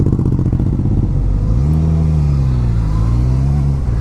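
A 2016 Suzuki GSX-S1000 ABS sportbike being ridden, its engine loud and close with a deep rumble, a quick throttle blip lifting the pitch and then settling into a steady drone.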